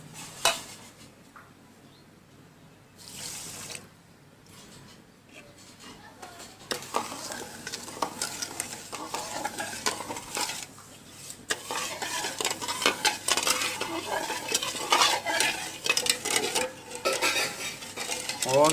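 Sugar is stirred with a utensil in a pan over a fire, giving scraping and light clinking with a growing sizzle that becomes louder and busier over time, with faint talk in the background.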